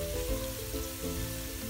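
Garlic and ginger frying in oil in a pan, giving a steady close sizzle with soft crackle and faint low bubbling throughout, with no talking.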